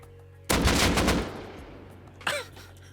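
Gunfire in the video game Rust, a loud burst of rapid shots that starts abruptly and decays, then one sharper shot follows a moment later, heard close with no talking.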